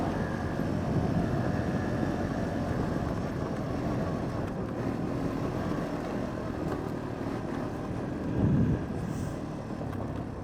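Honda Foreman 450es ATV with a knockoff carburetor running steadily, a continuous engine drone held close and loud for the whole stretch, with a brief swell near the end.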